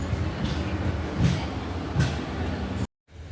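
Inside a stationary Thiruvananthapuram North–Mysuru Junction Express at a station platform, with a steady ambient hum and murmur of people, a few dull thuds, then a sudden cutout to near silence.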